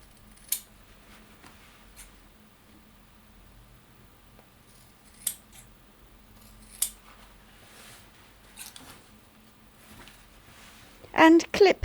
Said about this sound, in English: And clip the outside edge, which is slightly curved.